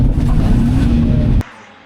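A drift car's engine revs hard and loud at a track drift event, a sustained roaring rev that cuts off abruptly near the end, leaving quiet idle.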